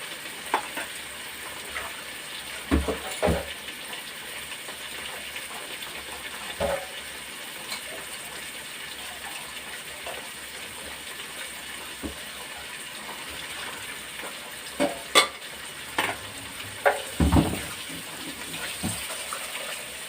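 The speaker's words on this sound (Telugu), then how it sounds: "తర్వాత క్యారెట్, పచ్చిమిర్చి, టమోటా వేసేస్తుంది." Carrot, green chilli and tomato frying in a pan for a biryani, a steady soft sizzle with occasional stirring clatters, moderately near and continuous throughout.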